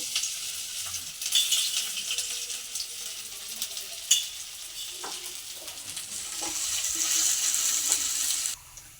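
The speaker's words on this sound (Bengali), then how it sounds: "তেল গরম হয়ে গেছে, আদা কুচি দেবো, রসুন কুচি দেবো" Chopped ginger and garlic hitting hot oil in a pan, a bright hissing sizzle that swells louder toward the end, with occasional spatula taps and stirring, then drops off suddenly.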